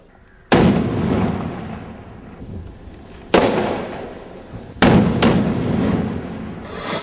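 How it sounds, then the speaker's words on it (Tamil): Sharp firecracker bangs go off one after another at a temple as a ritual custom, four loud blasts with crackling decay, spaced a few seconds apart, echoing outdoors. "நாவலடியான் கோயிலில் கடைபிடிக்கப்படும் மற்றொரு விசித்திரமான வழக்கம் வெடி போடுவது."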